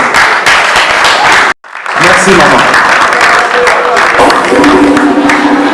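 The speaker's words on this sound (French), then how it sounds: "Je demande de tenir debout et qu'on applaudisse." Standing audience applause at a memorial tribute event for Pépé Kallé, loud and steady, briefly cut off then resuming, with voices talking and calling out over the clapping.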